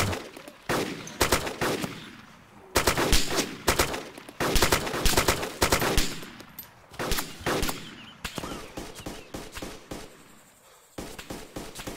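Video game gunfire rattles in repeated automatic bursts and single shots, loud and close, separated by short pauses, with background game sounds between volleys.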